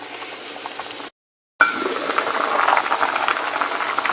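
Mushroom and greens soup stock made with shiitake mushrooms simmering in a pot, a dense bubbling patter that is close and steady, broken by a short gap of silence before it continues.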